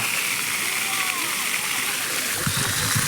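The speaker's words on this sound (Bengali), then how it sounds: "পানির ফোয়ারা" A big public water fountain in Korea gushes and splashes continuously, a dense rushing wash of water throughout, with a voice briefly surfacing near the end.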